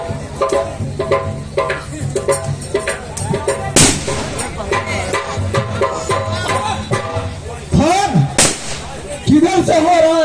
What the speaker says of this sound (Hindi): किधर से हो रहा है फायर?